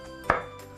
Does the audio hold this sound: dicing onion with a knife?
yes